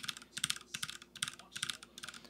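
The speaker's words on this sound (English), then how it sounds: "And now typing on a regular keyboard." Rapid typing on a regular computer keyboard produces a quick, uneven run of crisp clicks in small bursts, close and clear with no voices.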